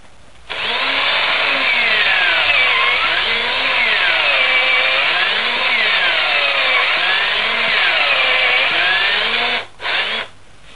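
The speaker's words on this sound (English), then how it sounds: "then you can start drilling down" A loud power drill whines steadily for about nine seconds, its pitch wavering up and down as it bites into potassium nitrate and sugar rocket fuel, then briefly cuts out near the end.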